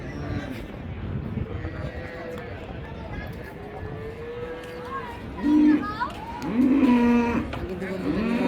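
Holstein Friesian cows and calves moo and low loudly nearby at a cattle market in Raniganj, Dinajpur, several calls in the second half, while people talk in the background.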